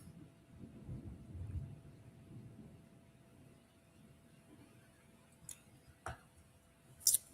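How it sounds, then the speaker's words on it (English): Thunder rumbles low and distant, swelling softly during the first couple of seconds before fading into a quiet background, followed by a few brief sharp ticks and clicks near the end. "Did you guys hear that thunder?"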